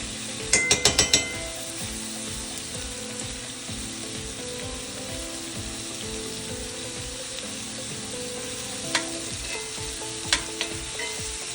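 Salmon sizzles and fries steadily in a pan with herb butter, garlic, chives and rosemary, a constant close crackle broken by a few sharp clinks of a utensil near the start and two more later.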